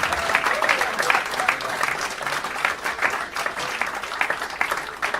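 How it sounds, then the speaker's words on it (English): Audience applause at a stand-up comedy show: steady, dense clapping from a full room, loud and continuous for the whole stretch, with no talk over it. "All right, let's applaud."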